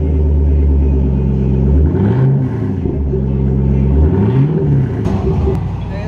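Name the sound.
2005 Ford Mustang 4.6L V8 with Borla ATAK exhaust revving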